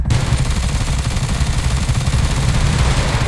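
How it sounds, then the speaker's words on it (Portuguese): Dense, continuous automatic gunfire from a machine gun in GTA V, loud and sustained without a break, with heavy low-end rumble as of explosions mixed in. "Tem essa metralhadora que ela é bem melhor também, que ela sai explodindo tudo"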